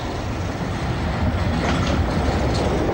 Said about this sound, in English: Train approaching platform 1 is a 7:57 fast train to Liverpool Street.